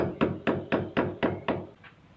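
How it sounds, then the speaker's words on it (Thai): Seven sharp hammer taps drive a wall anchor into a drilled hole in a steady rhythm, close and loud, with the last blow slightly weaker. "ตอกเข้าไปในรูที่เจาะนะครับ"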